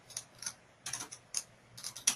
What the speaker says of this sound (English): then you just type in your text